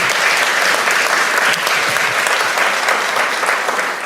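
Sustained audience applause at a Les Brown motivational speech, a dense, steady wash of clapping from a large crowd that holds at even loudness throughout.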